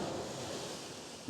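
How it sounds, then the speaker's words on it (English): Ocean waves breaking on a beach at dawn, a steady broad wash of surf close by with some wind, continuous and moderately loud, no voices. "Waves again closer and closer to me here."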